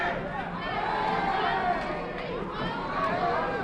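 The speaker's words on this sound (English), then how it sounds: "Crowd really into this fight. Oh yeah, this is the loudest we've heard it tonight so far." A boxing crowd at a Revere amateur fight night roars in a steady, loud, sustained wash of cheering and shouting that fills the whole stretch.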